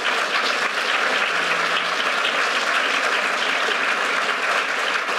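Audience applause at an event unveiling the Black Teacher Archive, a loud, dense, sustained clapping from a large crowd throughout.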